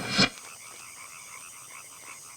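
One short, loud frog croak rings out near the start, followed by faint, steady background chirping and hum.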